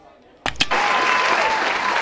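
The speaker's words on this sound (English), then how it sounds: "I played the applause thing." During a game show, a recorded applause sound effect starts suddenly after two sharp clicks and runs as a dense, steady crowd clapping to the end.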